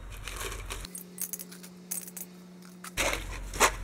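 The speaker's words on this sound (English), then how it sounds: "I'm going to put these old Woodruff keys in here." Old metal Woodruff keys dropping into a container during a 1957 Bolens tractor fix-up, heard as a few short, bright metallic clinks and rattles close by, with no talk.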